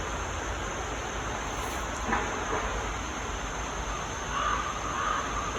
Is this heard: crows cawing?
yes